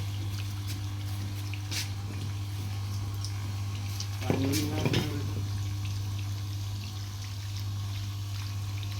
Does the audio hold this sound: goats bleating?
no